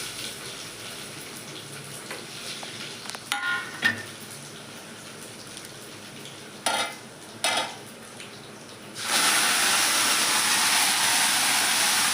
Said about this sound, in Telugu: పప్పు తాలింపు అయితే వేస్తుంది